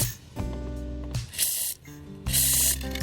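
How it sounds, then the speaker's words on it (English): Penetrating oil sprays onto the front strut bolts of a 2004 Pontiac Montana in three close, hissing bursts separated by short pauses, with no talk. "So I just want to try to pre-soak those bolts a little bit."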